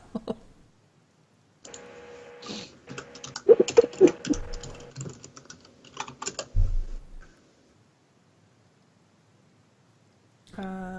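Fingers type on a computer keyboard in scattered bursts of quick clicks and taps, close and fairly crisp, separated by silent pauses.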